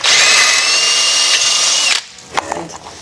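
A power drill bores off the screw head holding a Honda Civic rear brake rotor, whining loud and close for about two seconds before stopping, followed by a few metallic clinks and handling sounds.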